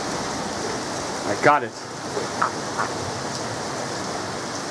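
Thunderstorm rain keeps up a dense, steady patter throughout, while a nearby voice speaks briefly over it and a few soft murmurs follow.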